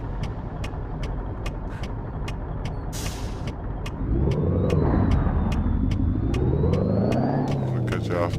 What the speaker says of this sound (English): Let's turn that engine brake on